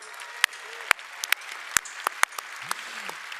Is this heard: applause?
yes